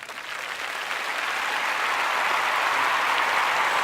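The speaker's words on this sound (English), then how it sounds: "give yourself a round of applause." An audience gives a sustained round of applause at a show's season finale, a dense, steady wash of clapping that builds slightly and holds loud with no talk over it.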